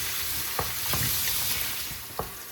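Curry leaves crackle and sizzle in hot oil while being stirred, a steady frying hiss with a few sharp spatula scrapes spaced through it, close and fairly loud, no voices.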